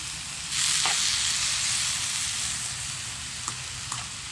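Food sizzles in a pan while being stirred inside a hot tent during a snowstorm camp. A steady frying hiss swells, with a couple of light utensil clinks toward the end and no talking.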